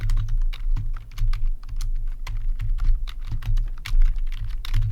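Fast, steady typing on a computer keyboard, with dense, irregular clicks of keys close by and no voices.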